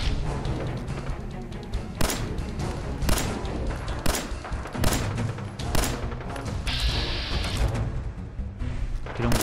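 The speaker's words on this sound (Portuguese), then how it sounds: "É lá o tiroteio, ó." Gunfight in the video game Fallout 4, a battle at Hangman's Alley: repeated loud gunshots and booming impacts crack out irregularly over several seconds, some clustered in rapid bursts, with a sustained rushing blast midway.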